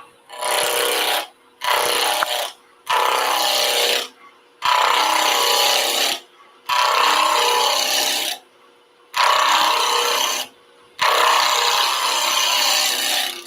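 Scrap oak turning on a lathe at around 1800 RPM, a loud, broad rasping hiss of a tool cutting the spinning wood, coming in seven steady passes a second or two long, each separated by a short pause, with no talk.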